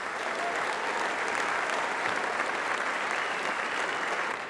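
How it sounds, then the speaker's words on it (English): An audience at the RoboCup 2024 robotics competition applauds steadily, dense clapping from a large crowd that holds at an even level throughout. "please give them all a big round of applause."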